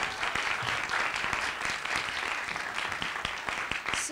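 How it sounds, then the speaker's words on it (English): A panel audience applauds panelist Laura Hirschberg, a dense, even patter of many hands clapping, with sharp individual claps standing out, holding steady for several seconds. "Round of applause,"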